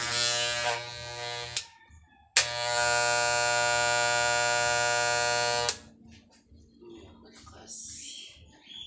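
A Wahl Performer electric hair clipper buzzes loudly in two bursts, a short one then a longer steady run, before switching off to quieter background sounds.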